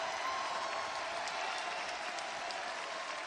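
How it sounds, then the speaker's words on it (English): A large crowd at a wrestling match claps in appreciation, a dense and steady wash of applause that holds evenly for several seconds, loud and sustained with no clear voices. "Thousands of people here on their feet clapping in appreciation."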